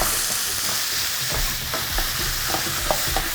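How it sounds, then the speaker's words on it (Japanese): Garlic and ginger stir-frying over fairly high heat in a pan for keema curry, a continuous close sizzle with occasional scraping stirs and light ticks, no talking. "炒めてるんですけれども、だんだんこう色が変わり始めました"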